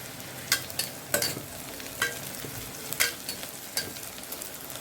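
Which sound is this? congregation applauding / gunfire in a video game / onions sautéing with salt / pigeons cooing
onions sautéing with salt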